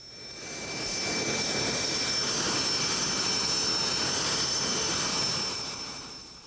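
Steady roar of a Lockheed F-117A stealth jet's engine, swelling in over the first second, holding loud and constant with a high whining tone, then fading slightly at the end; no voices.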